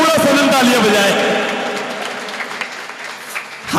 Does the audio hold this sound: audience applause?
yes